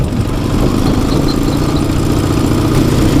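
A Soviet-style MT heavy motorcycle engine idles up close, a loud, steady low-pitched throb with an even mechanical rumble and no voices.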